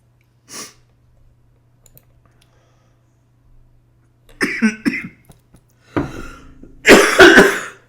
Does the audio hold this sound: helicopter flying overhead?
no